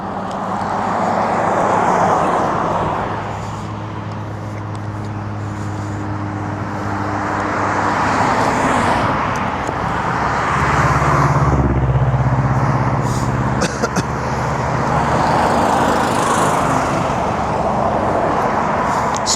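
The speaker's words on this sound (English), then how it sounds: "Sorry about the scenery, loud noise and cars." Continuous roar of road traffic with cars passing and a low engine rumble swelling and fading, loud and close, with no talking.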